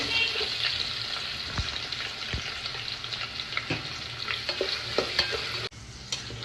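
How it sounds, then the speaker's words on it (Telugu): Green chillies and onions fry steadily in hot oil as a tempering for Telangana-style bagara rice, a loud continuous sizzle with occasional stirring clicks and no talking. "ఒక ఐదారు మిర్చి వేసాలి నెక్స్ట్ కొన్ని ఆనియన్స్"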